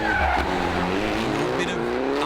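A Citroen DS3 rally car squeals its tyres through a hairpin on a forest rally stage, a short loud screech over the engine drone.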